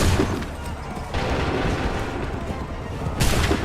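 Soldiers fire a musket volley in Assassin's Creed 3, loud booming cracks opening and closing the moment with rumbling, crowded battle noise in between.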